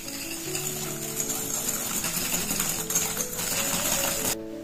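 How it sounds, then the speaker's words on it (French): Sugar whisked vigorously into a mixture in a bowl by hand, a continuous rapid scraping and clattering rhythm that carries on steadily for several seconds, close up with no speech. "Et on va fouetter énergiquement à peu près 30 secondes."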